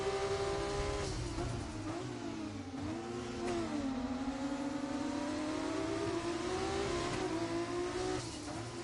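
Formula 2 race car engines in a racing video game, a league race at Portugal, rev hard and continuously, their pitch climbing and dipping as the cars shift gears and battle closely, loud and steady throughout.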